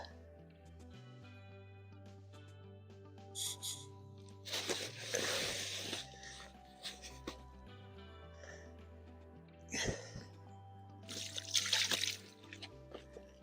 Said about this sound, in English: flicking water in the face this time of the day